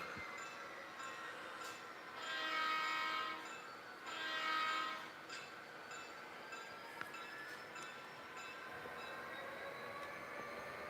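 An HO scale model Amtrak train rolls steadily along the track with a continuous mechanical hum, swelling louder twice in the first few seconds and then settling, with no one talking.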